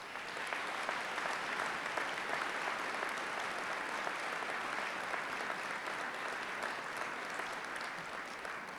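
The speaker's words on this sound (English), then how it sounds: "Let's salute through our applause the life of Officer Guerra." Sustained, dense applause from a large crowd at an NYPD medal ceremony, honoring a fallen officer; steady and even throughout with no voices on top.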